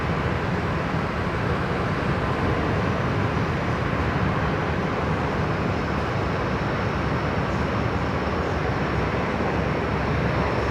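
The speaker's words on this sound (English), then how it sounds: "here we go, Air New Zealand heading off" An Air New Zealand airliner departs Brisbane Airport, a steady, broad engine roar holding at constant loudness throughout, heard from a distance without speech.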